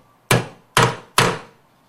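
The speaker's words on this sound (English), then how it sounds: "we're going to take our hammer and our center punch, and we'll go ahead and mark our hole locations" Three sharp metallic hammer taps on a center punch marking hole locations, evenly spaced and close, each ringing briefly before fading.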